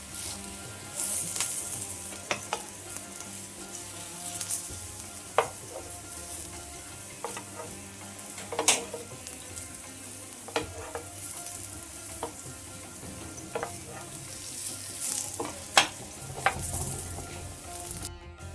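Coriander leaf vadas shallow-fry in a little oil on a pan, giving a steady, close sizzle with occasional sharp clinks and scrapes from turning and stirring, and no voices.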